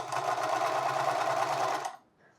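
A sewing machine runs steadily for almost two seconds, stitching the seam of a fabric cap, then stops abruptly, leaving near silence.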